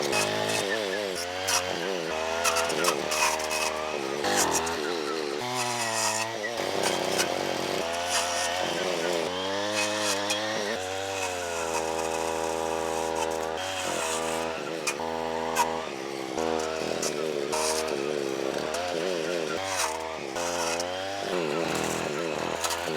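A string trimmer fitted with a Forester chainsaw-tooth brush cutter blade cuts through oak, its engine revving and dropping in loud, repeated surges while the blade bites into wood.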